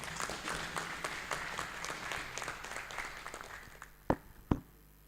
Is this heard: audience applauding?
yes